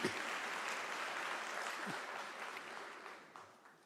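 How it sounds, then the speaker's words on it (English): Audience applause at a University of South Africa autumn graduation ceremony, a broad sustained patter of many hands clapping in a large hall, fairly distant and gradually fading. "Can we give an applaud for that?"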